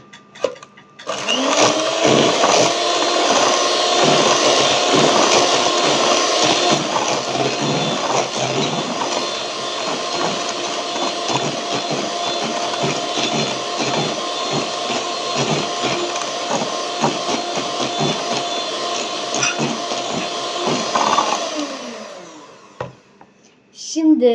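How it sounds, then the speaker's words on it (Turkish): An electric mixer whisks cake batter with sugar for a carrot, cinnamon and walnut cake, a steady loud whirring drone that runs for about twenty seconds before stopping. "Daha sonra biraz daha çırpıyoruz."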